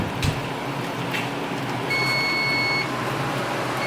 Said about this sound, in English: I guess the timer was still working.